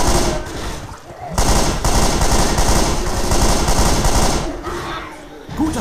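Gunfire in the zombie shooter Left 4 Dead 2 comes as loud, dense bursts of rapid shots with brief pauses between volleys, amid a noisy game mix.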